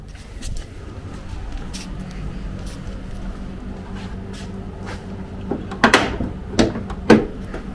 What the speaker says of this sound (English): we'll start by popping the bonnet, which is done with this little lever here on the passenger side